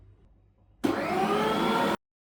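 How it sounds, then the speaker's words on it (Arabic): Electric grinder grinding bulgur wheat in a kitchen, a loud, steady whirring burst that starts abruptly, runs for about a second, and cuts off sharply. "فهلا بالبداية رح نطحن البرغل مرة، وبعدين البرغل والهبرة مرة تانية."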